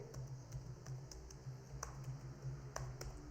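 Fingers type on a computer keyboard while entering text into a spreadsheet cell, a quiet, close run of light irregular key clicks with no talking.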